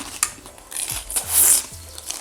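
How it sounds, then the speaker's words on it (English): Toast being eaten gives brittle, close crunches that come in several short bursts with quiet gaps between bites. "I don't suppose you want to hear me crunching toast, do you?"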